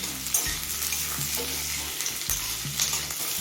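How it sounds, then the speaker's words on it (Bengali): Two large chopped onions sizzle and fry steadily in a pan while being stirred, with a loud continuous hiss and occasional scraping, no voices. "এবার দিচ্ছি কুচনো দুটো বড় সাইজের পেঁয়াজ"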